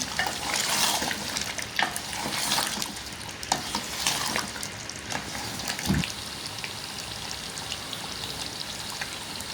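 Beef being stir-fried in a pot with four or five whole garlic cloves for a village-style beef bhuna, a continuous crackling sizzle broken by scraping stirs and occasional louder sputters.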